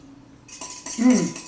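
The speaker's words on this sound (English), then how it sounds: "And then we're gonna stir this up and we're gonna taste it." Spoon stirring a lime juice sauce in a bowl for Baja-style fish tacos, a short scraping and clinking of utensil against the dish that swells near the end, close and moderately loud with no talk.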